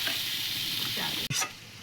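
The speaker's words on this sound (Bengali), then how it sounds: "ভাজা হয়ে গেছে ওলকপি আলু" Kohlrabi and potatoes fry in oil in a pan with a continuous close sizzle, and a brief stirring scrape stands out near the end.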